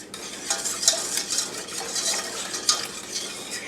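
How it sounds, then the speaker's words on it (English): Cherry pie filling is whisked in a pot on the stove as it cooks and thickens, a steady close scraping and swishing with small clinks of the whisk against the pan, with no voices. "whisking this together. I want to make sure that, again, that there are no lumps in this"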